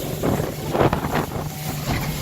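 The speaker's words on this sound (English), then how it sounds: "All the water comes up as soon as we hit the bottom, and it comes and splashes onto me." A boat bouncing over waves on a windy day, with wind buffeting the microphone and water splashing up in a couple of broad surges over a steady engine drone.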